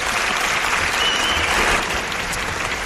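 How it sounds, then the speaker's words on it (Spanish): Studio audience applauding on a Spanish television talk show as a guest is welcomed, a steady, dense wash of clapping that holds at full strength throughout with no voices over it. "Un aplauso estudio para él."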